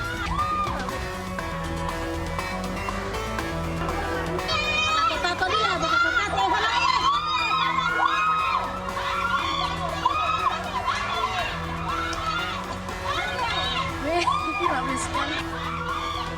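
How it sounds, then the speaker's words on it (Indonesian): Residents shouting and clamoring as a motorcycle thief flees across house rooftops, a dense, continuous crowd din of overlapping raised voices and chatter held at a steady loudness throughout. "Warga berteriak-teriak melihat seorang pelaku pencuri sepeda motor melarikan diri melompati atap-atap rumah"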